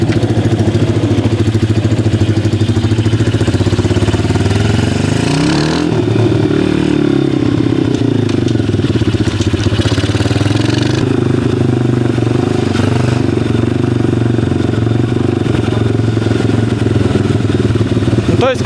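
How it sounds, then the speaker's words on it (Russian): An XMOTOS 125cc pit bike engine and exhaust running nearby, a continuous loud low engine drone with slight shifts in pitch and rasp, under faint background voices. "звук ваших динамиков не передает ту полноту и глубину звука, который издает данная выхлопная труба"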